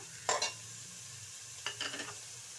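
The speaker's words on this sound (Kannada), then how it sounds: "ಬೆಳ್ಳುಳ್ಳಿ ಶುಂಠಿ ಪೇಸ್ಟ್ ಹಾಕೊಳ್ಳಿ ಎರಡು ಒಂದ್ಸಲ ಈ ಥರ ಮಿಕ್ಸ್ ಮಾಡಿ ಫ್ರೇ ಆಗಲಿ" Garlic-ginger paste sizzles in hot ghee in a pan, with two short bursts of spoon-stirring scrapes over a faint, steady frying hiss.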